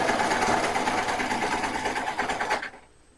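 A sewing machine stitches an Ankara fabric bow in a fast, close, rapid run of mechanical clatter that stops abruptly near the end.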